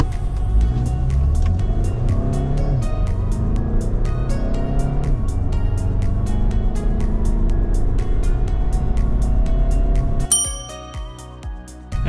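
A VW Golf MK7 diesel engine running on WD40 instead of diesel fuel idles up close, loud and steady with a rhythmic clattering knock, its tone shifting abruptly near the end.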